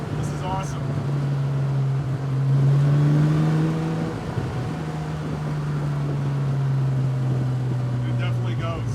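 A MAC car just back from a major drivetrain upgrade pulls hard on its first drive, its engine holding a steady droning tone that rises as it revs toward 4,000, with road and wind noise underneath and occasional talk inside the car.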